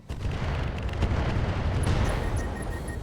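In the RogueTech mech combat game, a Streak SRM ammunition store explodes in a sustained, loud, rumbling roar of blasts that fills the whole stretch, with faint high electronic tones appearing near the end and no voices.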